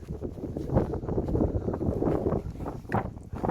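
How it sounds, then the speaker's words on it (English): Gusty wind buffets the microphone in rough, uneven bursts at an abbey ruin in Maltby, South Yorkshire, loud and close, with no voices. "If you can hear that, it's a bit windy."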